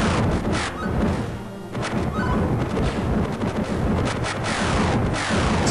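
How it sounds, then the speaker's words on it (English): Laser blaster shots in the Super Star Wars video game, a dense barrage of sharp, loud bursts firing repeatedly in an irregular rhythm over busy game sound effects and music. "those little red things will shoot sort of like blaster shots at you"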